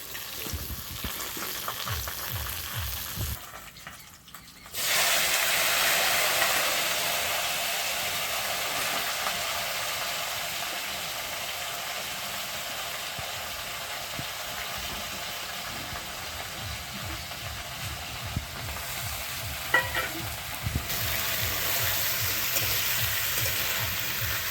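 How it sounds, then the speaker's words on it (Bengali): Dry red chillies and cumin seeds hit hot oil for tempering a katla kaliya fish curry, quiet clatter first, then a sudden loud sizzle that crackles steadily on. "এখানে ফোড়ন দিয়ে দেবো। শুকনো লঙ্কা দিয়ে দিচ্ছি"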